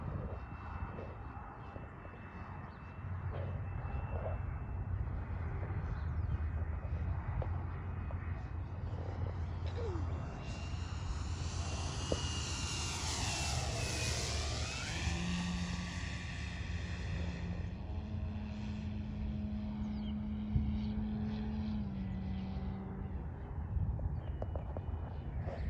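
A radio-controlled model Pilatus PC-6 airplane drones steadily overhead, its propeller engine swelling into a loud close pass midway before easing off again, with some background talk.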